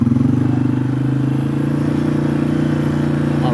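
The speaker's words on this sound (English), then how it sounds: "get on the four-wheeler," A four-wheeler ATV engine idles and rumbles steadily up close, with a throbbing low pulse and light mechanical clatter, no voices.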